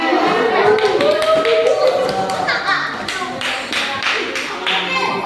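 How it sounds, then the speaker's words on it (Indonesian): Classroom audience clapping hands together at a teacher-training lesson, a steady patter of many hands with faint children's voices underneath. "tepuk tangan"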